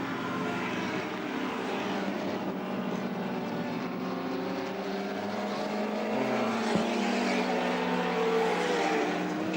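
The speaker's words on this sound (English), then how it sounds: "Shows you the power of the six-cylinder BMW and the V8 Falcon at nearly twice the engine capacity" Touring cars racing at Lakeside in 1984, a six-cylinder BMW and a V8 Ford Falcon: a steady, loud blend of engine drone under a continuous roar, with no talk.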